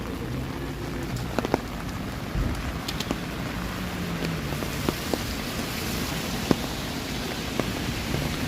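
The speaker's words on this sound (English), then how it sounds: "but now it's starting to come down harder." Heavy rain pours down across a city street on a thunderstorm evening in Toronto, a steady dense hiss with scattered sharper drip and splash ticks, no talk.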